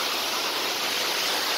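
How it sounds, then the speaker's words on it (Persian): Kazdon waterfall, a continuous broadband rush of falling water, steady and loud with no breaks or other sounds. "زیبایی شرشره بینید."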